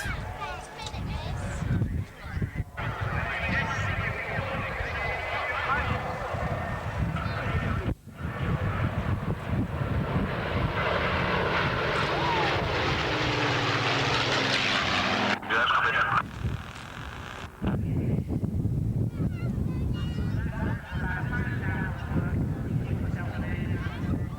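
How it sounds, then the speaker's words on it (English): An aircraft drones and roars overhead at the Royal International Air Tattoo air show, a broad engine noise that swells and fades under near-constant talk, with outdoor crowd sound throughout. "Now that's definitely a strange looking aircraft."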